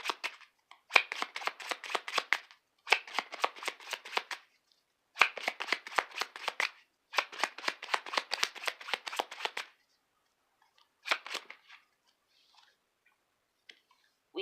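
Regular playing cards are riffled and shuffled by hand for a reading, several rapid crackling bursts close up separated by short pauses, with no talking.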